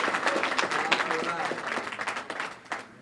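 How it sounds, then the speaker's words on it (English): An audience at a National Bankers Association keynote breaks into a short round of applause, a crowd of clapping hands that fades out after about three seconds. "Give yourselves a round of applause."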